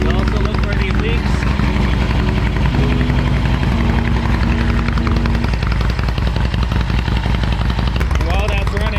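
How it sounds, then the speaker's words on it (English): Harley Davidson Sportster engine running to warm up, a loud, close, continuous rumbling idle throughout with a steady low throb. "Start the bike up to operating temp."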